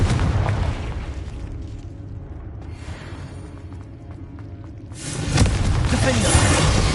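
Confringo fire spell blasts in Hogwarts Legacy, booming explosive bursts from the game, loud at the start, dipping, then surging again near the end, with a voice speaking over the combat.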